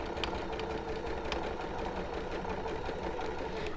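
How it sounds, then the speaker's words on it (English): A sewing machine runs a steady quarter-inch seam, its fast even needle chatter and motor hum continuing without pause at close range, no talking. "So sew these along."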